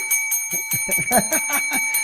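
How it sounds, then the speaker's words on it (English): A bell rings with a sustained metallic tone, struck in a quick run of about ten rhythmic hits that sound close and fairly loud, with no talking. "You're going to get the bell too."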